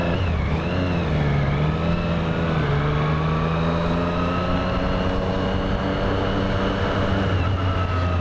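A 2017 Triumph Street Triple 765 RS motorcycle revs inside a tunnel, its loud, steady engine roar swelling and dipping in pitch with echoing reverberation throughout, with no voices.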